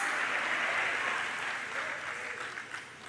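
An audience at a church service claps continuously, a dense wash of applause that holds steady and then thins slightly toward the end.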